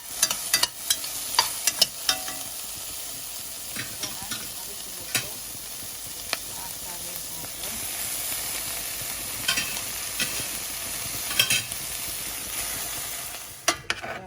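Broccoli and chicken sizzle steadily in a pan while being stirred for a white sauce pasta. Repeated scraping stirs punctuate the continuous close frying hiss.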